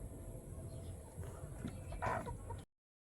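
A chicken clucks softly in short bursts, fairly faint, over a low background hum before cutting off abruptly.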